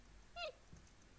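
A cat in Minecraft gives one short, faint mew, heard alone over a quiet background.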